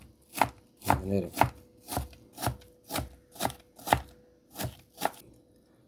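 Knife chopping an apple on a board, about ten crisp, evenly spaced strikes close up, with a short rubbing scrape early on and a brief spoken word.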